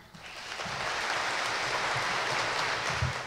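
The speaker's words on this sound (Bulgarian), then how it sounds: "Аплодисменти за преподавателите!" A graduation crowd applauds its teachers at a journalism and mass communication faculty ceremony, with steady, dense clapping that holds at an even level from start to finish.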